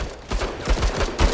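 Burst of soldier gunfire in the tactical game Menace, a quick double shot of rapid dull thumps over roughly a second, close and fairly loud with no voice.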